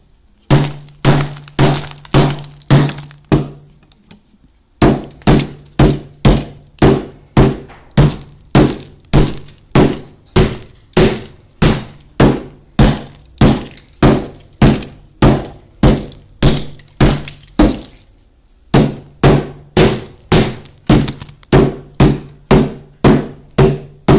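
Glass on an iPhone 8 being smashed with steady, rapid repeated blows, each impact a loud sharp crack and crunch, continuing in a regular rhythm with one brief pause.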